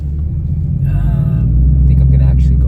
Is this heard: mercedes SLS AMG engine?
yes